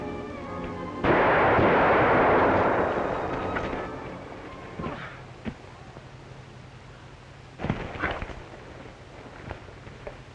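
Gunshot in a 1945 Bob Steele western film: one loud blast with a long rumbling decay, followed by quieter scattered knocks and a second sharper burst near the end, no talk over it.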